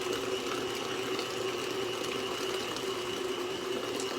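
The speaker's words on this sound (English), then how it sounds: "Let me mix it now. I can crank it up." An electric mixer beating pistachio cake batter, a steady whirring motor hum with a constant churning, wet texture, close and continuous at an even level.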